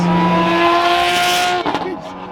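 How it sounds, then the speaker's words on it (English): A loud, high-revving Porsche GT3 RS engine roars nearby, its pitch climbing steadily before the exhaust note breaks off and settles lower. "lizard green GT3 RS sounds killer"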